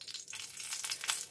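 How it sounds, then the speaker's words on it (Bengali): Lentil dumplings (bori) fry in a kadai with a soft, continuous crackling sizzle, fairly faint and close, with slight fluttering swells over its brief span. "লাল করে একটু বড়িগুলোকে ভেজে নেব"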